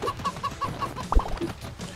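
Chickens clucking in the co-op video game Moving Out, a quick series of short, evenly spaced clucks followed by a louder squawk, heard over faint game background noise.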